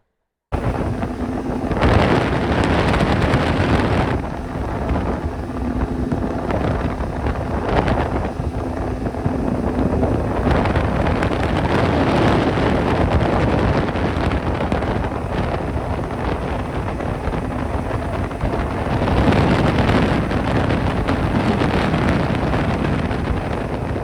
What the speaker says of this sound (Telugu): ఇక్కడ నుండి బోట్ రైడింగ్ బోయామండి